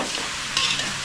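Garlic and onion frying in a pan, a brief, close, steady sizzle with a light stirring scrape partway through.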